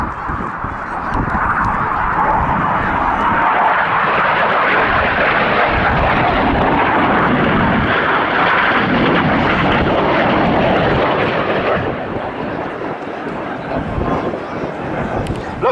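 Red Arrows jets flying an aerobatic display at the Cosford Air Show, a steady loud roar of jet engines sustained throughout, swelling and fading slightly as the aircraft pass overhead, with no speech over it.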